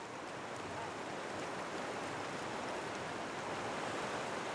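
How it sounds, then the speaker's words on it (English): Wild mountain river in a valley in Albania, rushing steadily as a continuous, full-bodied roar of flowing water, close and uninterrupted with no voices. "this mountain river flows through the valley as a wild stream"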